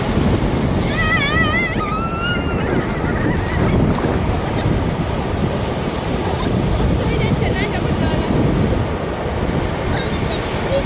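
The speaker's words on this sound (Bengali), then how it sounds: "নিম্নচাপ আছে বলে কতটা সুন্দর লাগছে ঢেউটা" Waves surging and breaking on Digha beach in a loud, continuous roar, the sea rough from a low-pressure system, with honking goose-like calls and voices in the background.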